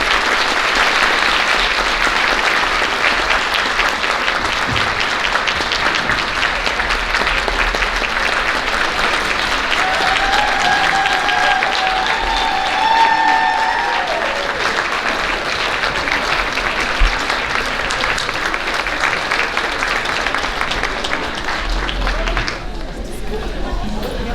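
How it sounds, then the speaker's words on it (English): An audience applauds to honor a teacher at a school district Teachers of the Year event, sustained loud clapping with scattered cheers and crowd chatter that thins out near the end. "So let's give Mrs. King a round of applause."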